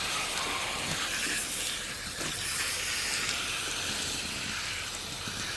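Water rinsing through the coils of an air conditioning unit during servicing makes a steady, close hiss of spray that holds an even level throughout.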